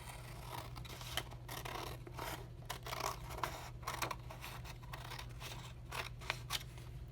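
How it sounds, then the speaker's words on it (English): Scissors snip through black construction paper in a quiet room, a series of short crisp cuts in irregular rhythm over a low steady hum. "and we're going to cut that line."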